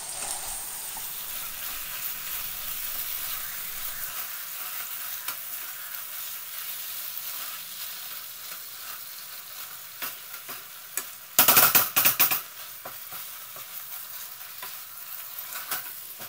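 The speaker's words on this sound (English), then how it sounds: "break up the meat, make sure it's nice in small bits and pieces, you know, ground meat" Ground meat fries in a pan for a lettuce wrap dish, a steady close sizzle broken by scraping stir strokes, including a louder burst of clattering stirring partway through, with no talking.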